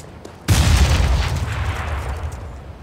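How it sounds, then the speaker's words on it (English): A grenade blows up in a tactical shooter video game, a single sharp boom that hits loud and close after a short quiet lead-in, then rolls off into a long rumbling decay. "I'm throwing a grenade."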